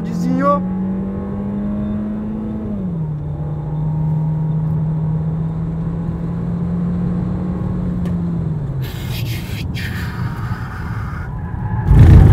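A compact 1.4–1.5 litre car, such as an Audi A3, Chevrolet Cruze or Honda Civic, accelerates hard on a test track. The engine drone drops at a gear change, holds a steady rising pull, then gives way to wind buffeting.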